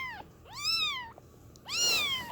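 A young female kitten gives two loud, rising-and-falling meows close by, separated by a short pause, the second one stronger and more strained, with no talking.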